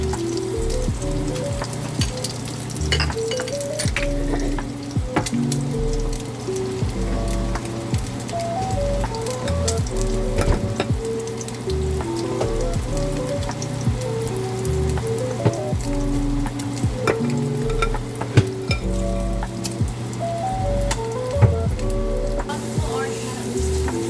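A pancake fries in oil in a pan with a continuous close sizzle and crackle, scattered pops and occasional utensil clicks over a steady low background hum, with no talking.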